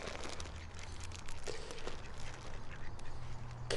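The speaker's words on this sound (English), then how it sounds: "Oh, man, too many ducks." Many ducks waiting for birdseed quack in a dense, overlapping chorus close by, with faint footsteps and outdoor background.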